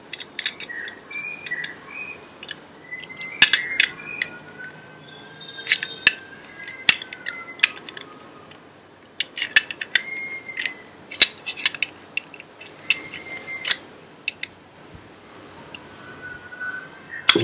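A metal fitting on a homemade box is tightened with an adjustable flat wrench: a long run of small clicks, ticks and squeaky metallic scrapes close up, irregular and sparse, with no talk.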